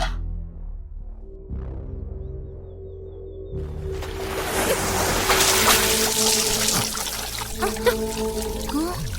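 Water pours in a steady, splashing stream that builds after a quieter start, with sloshing and trickling close by, and a few faint background sounds alongside.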